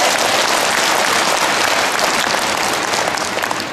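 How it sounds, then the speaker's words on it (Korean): A church congregation at a diocesan Holy Spirit rally in Incheon claps in a dense, steady burst of applause that stays loud and close for nearly four seconds, with no voices rising above it. "손 내려 박수 한번 쳐드립니다."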